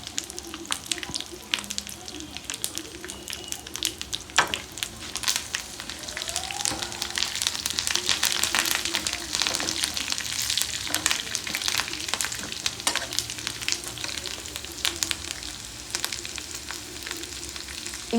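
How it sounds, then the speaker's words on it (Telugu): A tempering of spices with asafoetida fries in a pan for tamarind rice, a crackling sizzle with frequent scraping stirs of a spoon, steady and close throughout with occasional faint background voices. "ఈ పోపు ఇప్పుడు వేగిపోయింది"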